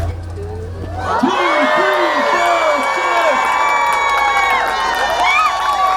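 Crowd at a giant pumpkin festival cheering and whooping, many voices rising in a loud sustained roar after a quieter start, with shouts and whistles on top.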